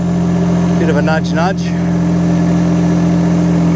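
A mini excavator pulling up fruit trees drones with a steady, loud engine hum close by, and someone speaks briefly over it.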